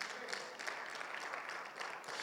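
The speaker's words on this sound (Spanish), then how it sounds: "¿Cuánto dan un fuerte aplauso al Señor, por favor?" Faint, steady clapping rises from a church congregation at a Bible seminar, an even wash of applause heard from some distance with no voices on top.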